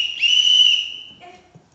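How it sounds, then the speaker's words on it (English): A loud, sharp whistle blast rings out for about a second, then breaks off into a fainter trailing sound, heard close and without speech. "I'll blow two long whistles to come out and start the commotion."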